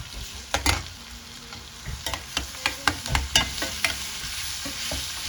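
Tomato and coriander tossed into frying onions and stirred, a cluster of quick scraping knocks against the pan over a soft steady sizzle, close by.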